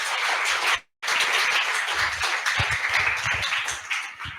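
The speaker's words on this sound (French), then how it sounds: "ça vous fera du bien de recevoir des applaudissements" Audience applause after a conference on denim fabric in Nîmes, steady dense clapping broken by a brief cut, then continuing with some scattered louder claps.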